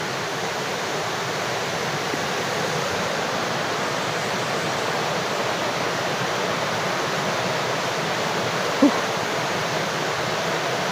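A clean river flowing, a steady rushing wash of moving water that stays even and unbroken throughout, fairly loud and close, with one faint brief tick near the end.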